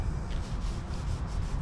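Old gasket residue is scrubbed off an engine valve cover for a 224 MAX performance build. A steady, quiet, close rubbing sound plays in quick repeated strokes, with no voices.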